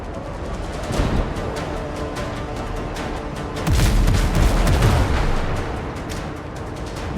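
A ship's cannons fire a volley at pirate boats in the game Windrose, with deep rumbling booms swelling into a heavier cluster of blasts midway over a constant low roar.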